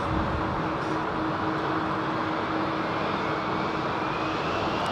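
An Airbus A380 departs London Heathrow with a continuous, loud jet-engine roar that stays broad and steady throughout, with no talk over it.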